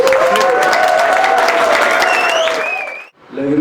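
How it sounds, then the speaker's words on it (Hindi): Audience applause welcoming a guest at a recovery birthday gathering, loud sustained clapping with a tonal, slightly whistling sound layered over it, then a sudden cut to near silence and a brief resumption of sound. "जोरदार तालियों के साथ"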